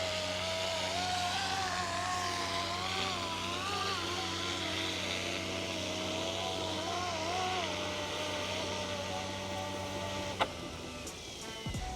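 Airwolf-style RC helicopter landing on its own, a steady high-pitched motor and rotor whine holding close and loud until the motors cut off abruptly near the end, leaving a brief quieter tail.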